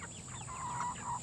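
Broiler chickens cluck in a chicken tractor on grass, a quick series of soft, close clucks over a steady background hum, with no talk.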